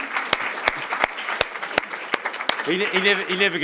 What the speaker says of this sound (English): Let's clap Peter.